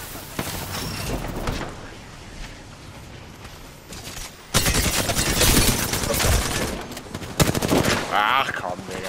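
Video game gunfire erupts in loud rapid bursts after a quieter stretch, automatic rounds rattling close and overlapping, with a voice calling out nearby.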